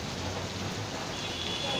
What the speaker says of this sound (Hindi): 2 दिन से देश के कई शहरों में बारिश हो रही है।